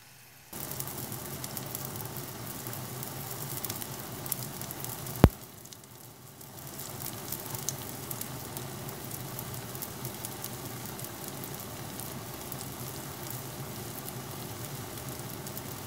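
Kimchi pancake batter of milk, egg and flour with kimchi sizzling steadily in a hot pan, a continuous close crackle broken by one sharp clack near the start, with no talking.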